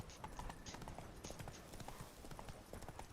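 Roach's hooves in The Witcher 3: Blood and Wine, a steady clip-clop of a horse travelling around a castle in the duchy, continuous and fairly close, with a soft ambient bed beneath.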